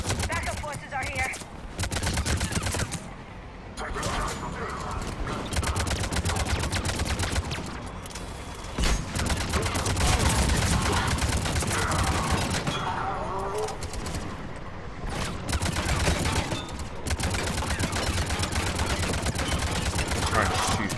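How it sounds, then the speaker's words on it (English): Rapid bursts of gunfire in Mass Effect 3 rattle out while shooting through an ice slot, loud repeated volleys with short pauses between them. "Trying to shoot through that ice slot."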